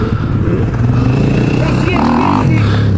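A Beta RR300 dirt bike engine idles with a steady low rumble, then revs up as the rider pulls away, with people chatting nearby throughout.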